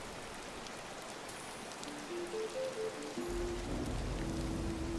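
Steady rain falls in the Disney Dreamlight Valley video game, a constant soft wash of drops, joined midway by low game music tones with no talking.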